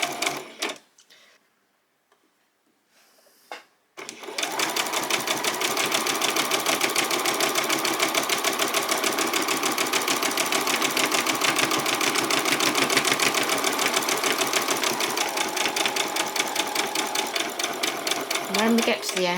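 A sewing machine runs a dress seam in rapid, steady stitching that starts after a brief quiet pause and then continues loud and unbroken to the end.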